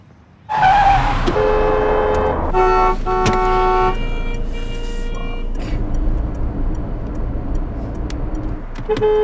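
A car drives along a road with steady engine and road rumble throughout, joined by several honk-like tonal notes and a brief squeal, with no talk.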